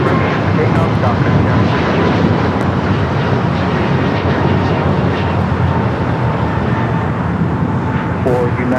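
A jet airliner takes off at Los Angeles LAX airport, its engine roar loud, broad and sustained throughout, with a voice talking underneath.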